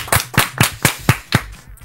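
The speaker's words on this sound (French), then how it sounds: "On va l'applaudir." A handful of people in a radio studio clap for an interviewee, about six distinct, evenly spaced claps that are close and crisp, then stop.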